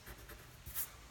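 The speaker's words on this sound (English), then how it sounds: "we're just going to erase this" Pencil sketch lines of a pug are erased on watercolor paper in a few faint, quick rubbing strokes, close and quiet, with no talking.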